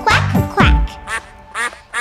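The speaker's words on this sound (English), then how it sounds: "Little duck, quack, quack." Several loud, nasal duck quacks come in quick bursts, close and clear, in a bouncy rhythm within a children's nursery song.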